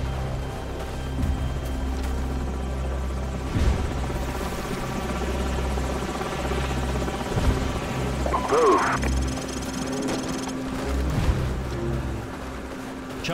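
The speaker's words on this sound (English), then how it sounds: "Enemy helicopters." Enemy helicopters in Call of Duty 4: Modern Warfare, a steady heavy rotor drone and engine roar throughout, loud and close, with game sound effects and radio-style voices talking over it.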